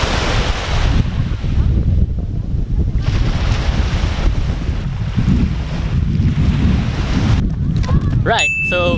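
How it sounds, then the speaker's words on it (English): Waves wash onto a beach in Macau, a loud surging rush heavily mixed with wind buffeting the microphone, and a voice speaks briefly at the very end. "now this is the beach in"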